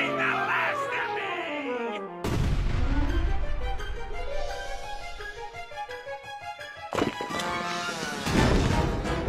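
Cartoon exploding nuts in Tom & Jerry Tales: two loud, sudden blasts burst over brassy orchestral cartoon music and ring out briefly each time.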